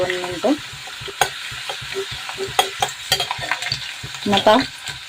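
Garlic and cumin seeds frying in hot oil, a loud close sizzle with crackling pops and irregular stirring scrapes against the pan, bursts rising and falling over a few seconds.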